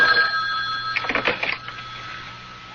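An old-fashioned telephone bell rings in a horror radio drama, a bright, clear burst of trilling rings in the middle, fairly loud and close, with a quiet background before and after.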